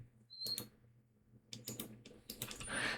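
Keys tapped on a computer keyboard while entering a search, in short clustered bursts separated by pauses, close and fairly quiet, with no voices.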